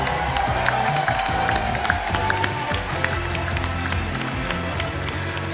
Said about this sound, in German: Macht Applaus für Charles Martinet!